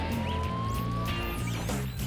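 A fire truck siren on a New York street, a rising wail cutting loudly through dense city traffic noise, with a few sharp clatters near the end.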